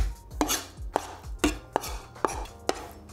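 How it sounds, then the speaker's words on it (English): Shrimp and fish being mashed together for fried stuffed tofu filling, heard as about eight sharp, evenly spaced chopping thuds on a board, close and distinct with no talking. "mix them together and continue mashing to combine them"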